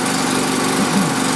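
A Stihl BG65 leaf blower's small two-stroke engine idles too fast, a steady, close, buzzing drone with no talking over it.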